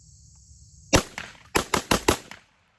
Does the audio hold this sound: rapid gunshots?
yes